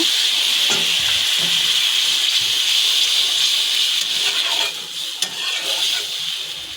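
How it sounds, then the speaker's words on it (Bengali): Steady loud hissing and sizzling as water hits a hot pan of frying pangasius fish, continuing evenly throughout, with a few faint clinks near the end. "এইবার পরিমাণ মতো পানি দিয়ে দেব"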